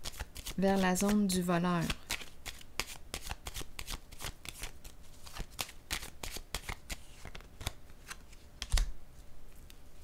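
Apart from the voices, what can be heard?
playing card placed on table in card game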